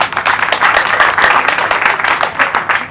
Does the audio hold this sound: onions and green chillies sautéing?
no